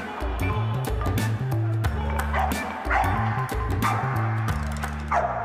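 Dogs bark and yip loudly at a dock diving competition held at an indoor pool, with repeated sharp bursts and whiny cries echoing through the hall, mixed with voices.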